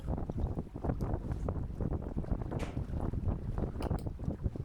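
Breeze gusts buffet the microphone aboard a Shrimper 19 sailboat underway on the water, a continuous rough rushing with repeated pulsing bursts, close and fairly loud.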